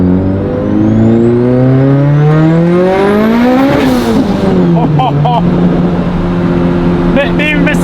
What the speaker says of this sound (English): This turbo spool on this car is like none other. It sounds like a T51 Armad, but it's not.